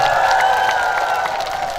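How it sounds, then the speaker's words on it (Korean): Audience at a trot concert in Samcheonpo, Sacheon, applauding and cheering together, a dense steady wash of clapping and crowd noise under a sustained musical tone, close and loud throughout. "맞다고 생각하면 박수 한 번만 주세요"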